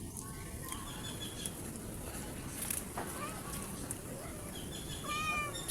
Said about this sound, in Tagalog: Sisimula na naman yung mga pusa.